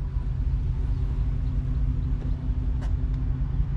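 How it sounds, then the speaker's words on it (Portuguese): An old car reverses out of a parking space at a classic car gathering, a steady low engine rumble close by with a faint squeak or two, no talking. "Desistiu da vaga? Vai pôr de ré."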